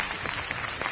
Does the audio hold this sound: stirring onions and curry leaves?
no